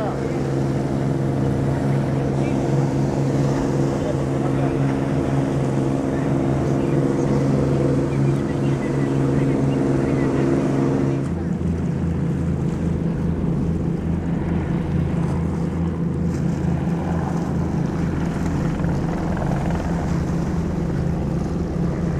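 Two fishing boats motor out through Haulover Inlet, a steady loud engine drone with a shift in pitch partway through, wind buffeting the microphone throughout.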